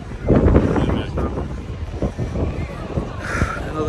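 Gusty wind buffets the microphone in low rumbling blasts at an outdoor stunt show, loudest at the start, with faint voices and outdoor noise underneath.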